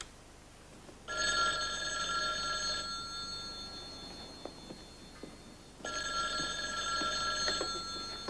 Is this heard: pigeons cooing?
no